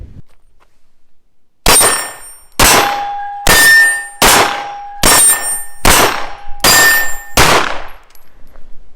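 Seven loud 9mm pistol shots from a Desert Eagle (Baby Eagle), each followed by a bright metallic ring from a struck steel target, fired at an uneven pace after a short quiet lead-in.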